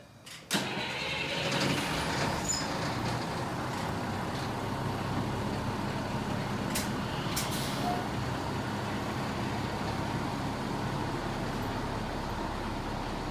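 A volunteer fire department's fire truck engine cranks and catches with a sharp start, then settles into a loud, steady diesel rumble, with a few hissing air-brake releases as it pulls away.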